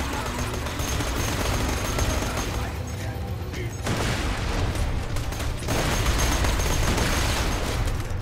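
Dense, continuous gunfire crackles through a Borderlands firefight, shotgun blasts packed together with no pause, dipping briefly in the middle before surging back just as loud.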